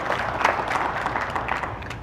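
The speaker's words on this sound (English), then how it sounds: "I want to give all of you a big round of applause for coming over here" Audience applauding at a talk held at a mosque, a brief burst of many hands clapping together, steady and fairly close without any voices over it.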